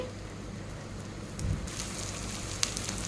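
Dried shrimp frying in a pan, a continuous crackling sizzle like rain on a surface that brightens midway, with one sharp pop near the end and no talking.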